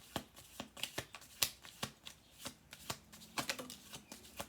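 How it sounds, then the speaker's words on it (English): A deck of cards is shuffled quietly up close, giving a rapid series of soft crisp riffling snaps in uneven bursts. "One more shuffle"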